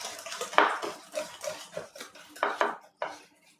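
A utensil clinks and scrapes against a bowl in quick irregular strokes while apple tart filling of brown sugar, cream and cornstarch is mixed, close and fairly quiet.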